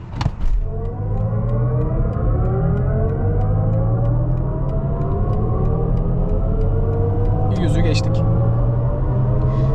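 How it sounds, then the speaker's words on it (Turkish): A BMW iX electric car accelerating hard from 0 to 100 km/h, heard from inside as a rising electric-motor whine over steady road rumble, with a couple of brief knocks. "şimdi de otomobilin 0-100 hızlanmasına bakacağız"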